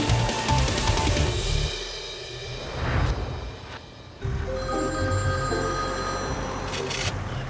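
A smartphone rings insistently in a paramedic scene, a bright repeating electronic tone running over low engine rumble and voices nearby, then cutting off.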